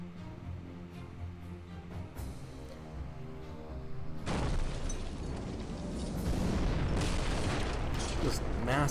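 A Tomahawk missile strikes its target, a loud, sustained roaring explosion bursting in suddenly after a quieter stretch of steady rumble and holding at full force to the end.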